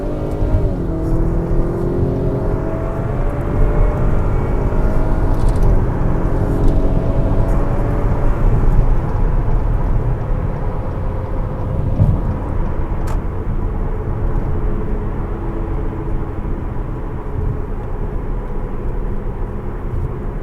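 An Acura RDX 2.0T with a Stage 1 intake accelerating on a highway, its engine droning loudly from inside the cabin and rising steadily in pitch through the gears over heavy road rumble.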